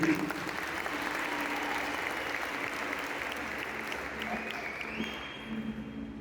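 A church congregation claps steadily for a man about to give his testimony, a sustained roomful of applause that fades slightly near the end.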